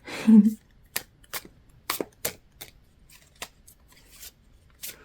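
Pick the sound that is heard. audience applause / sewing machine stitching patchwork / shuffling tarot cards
shuffling tarot cards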